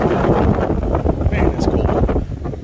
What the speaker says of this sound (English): Look at that, it is windy.